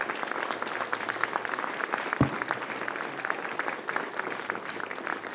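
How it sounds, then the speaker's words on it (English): Audience applause at a ribbon cutting ceremony, steady moderate clapping from a gathered crowd with one sharp low thump partway through, continuous and slightly distant. "Please give a round of applause to Mr."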